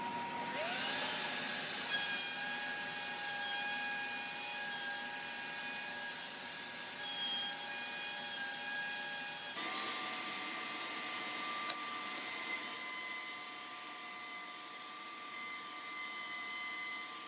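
Router rounding over the edge of a wooden workpiece with a flexible dust collection hose attached, giving a steady, loud high-pitched whine with a constant airy roar and no break for the full length, with no talk over it.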